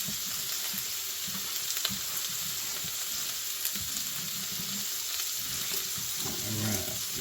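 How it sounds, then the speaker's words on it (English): Eggs sizzle and fry steadily in a cast iron skillet for a breakfast casserole while a utensil stirs them through with soft scraping scrapes, close and continuous, with no talking. "So we'll just keep stirring this in. Let the eggs keep cooking."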